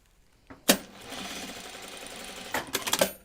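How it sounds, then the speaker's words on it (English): Close, steady whirring of a sewing machine topstitching the centre back seam of a lined anorak jacket, with clicks and a heavier burst of stitching near the end, no voices. "I'm just going to do my center back seam here. And I'm going to top stitch it."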